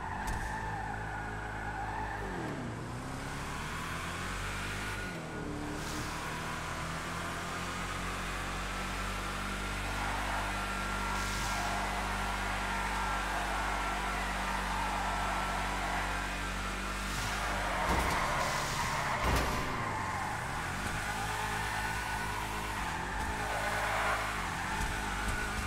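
Dominator GTE muscle car driven in a video game, a steady engine drone with rising and falling revs through gear changes, loud and continuous for the whole stretch with no talking.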